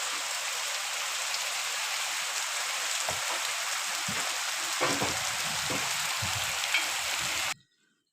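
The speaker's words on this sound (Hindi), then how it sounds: "हम आ चुके हैं हमारे छत पे, और बारिश बहुत तेज़ से हो रही है" Heavy monsoon rain pours onto a rooftop in a steady, dense hiss that is loud and close, with scattered heavier drops and splashes, before stopping abruptly near the end.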